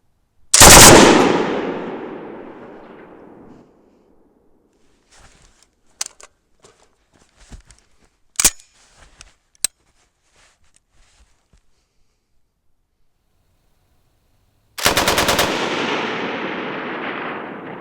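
A Bren light machine gun firing on a range, with two long loud bursts of rapid automatic fire at the start and end and scattered sharp clicks and clanks between them.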